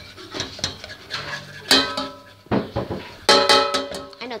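Slime mixture being stirred in a pot on a stove, clattering and scraping against the metal in several sharp bursts with quieter scraping between, close and fairly loud.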